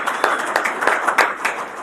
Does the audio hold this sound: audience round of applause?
yes